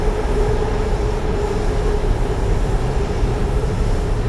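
A steady, loud rumble and whine of an elevated electric train passing continuously nearby at Ratchaprasong intersection, Bangkok, with no break in the roar.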